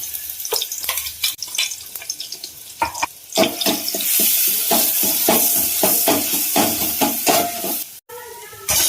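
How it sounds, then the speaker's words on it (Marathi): Ground green chili and garlic sautéing in a little oil in a pot, with sharp spoon clicks and scrapes at first, then a rising hiss of frying under quick stirring strokes, close by. "आता ही वाटलेली मिरची, लसूण यामध्ये टाकायचं आणि हे अगदी थोडंसं परतायचं."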